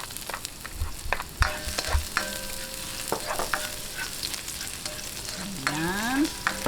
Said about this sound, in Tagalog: Lagay po natin ang bawang.